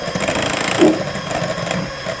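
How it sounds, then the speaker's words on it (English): An electric mixer hums and whirs steadily as it beats cake batter with eggs, salt, vanilla and cream cheese, a close continuous motor drone with slight wobbles, without speech. "Now, with my mixer running,"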